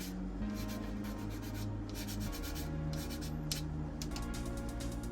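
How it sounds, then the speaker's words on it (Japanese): A hand file rubs back and forth across a part of a 1/12 Tamiya Fairlady Z 240ZG plastic model kit, making steady close scraping strokes in a quiet room. "この面が取れるねヤスリで 大まかにまず面を取っといて"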